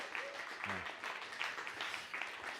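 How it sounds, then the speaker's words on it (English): Applause from an audience at an evening community gathering, a steady wash of clapping throughout at moderate level with a brief voice heard early on. "So a big round of applause for all of those people, please"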